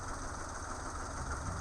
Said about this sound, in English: and my car is idling about